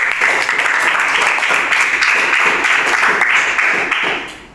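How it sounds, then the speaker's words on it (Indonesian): Classroom applause for a student group during a physics lesson on waves: loud, dense clapping from many pupils close by, sustained without a break and tapering off at the very end. "Oke, tepuk tangan dulu untuk"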